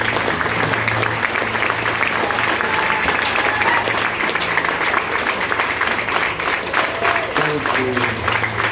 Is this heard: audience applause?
yes